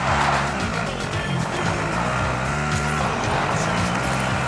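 Vehicle in the Call of Duty Warzone video game driving with a continuous engine rumble and tyre skidding, fairly loud throughout.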